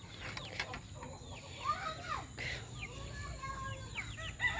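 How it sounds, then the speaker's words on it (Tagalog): Chickens cluck and squawk at a farmyard in the Philippines, with repeated rooster crows ringing out over low background noise; no talk is heard. "Yan daming manok"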